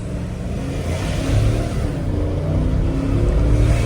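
A large vehicle's engine hums from inside the cabin, rising in pitch and loudness as it accelerates, with steady road rumble beneath.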